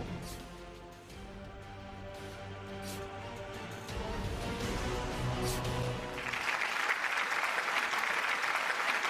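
A large audience at a political rally in Peddapalli bursts into loud, sustained applause after a voice over a loudspeaker, and the clapping continues steadily to the end.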